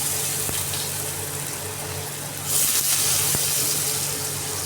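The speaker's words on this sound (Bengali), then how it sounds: "তেলটা গরম হয়ে গেছে, ফোড়নও হয়ে গেছে। এবার আমি প্রথমে দিয়ে দেবো আলুটা।" Potatoes tipped into hot mustard-seed tempered oil for a bitter gourd curry, a steady background hiss that suddenly swells into a louder, bright sizzling rush midway and holds, close and without talk.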